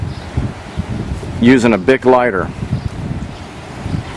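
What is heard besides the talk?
wind blowing outdoors in Kansas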